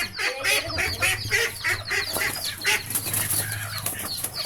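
Domestic desi ducks quack loudly and repeatedly while being caught, with rapid overlapping calls and bursts of wing flapping close by.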